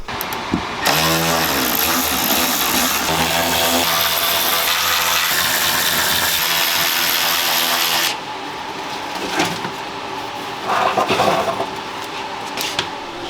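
A Milwaukee power tool whirs steadily against a car's exhaust heat shield during a 325is drift build engine pull, running for several seconds before stopping, then a few short clanks and bursts of workshop noise follow.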